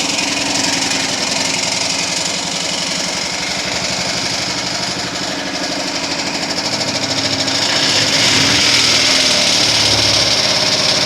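The engine of a classic Rolls-Royce Corniche or Bentley Continental drophead running steadily after starting, a loud, even mechanical rumble with fine rhythmic pulsing that swells slightly toward the end.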